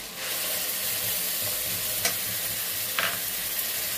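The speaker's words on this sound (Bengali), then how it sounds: "দিয়ে ভালো করে এটাকে কষতে হবে। মশলাটাকে ভালো করে কষে নিই।" Ginger and tomato paste masala frying in a pan while being stirred, a continuous close sizzle with occasional spatula scrapes, no talking.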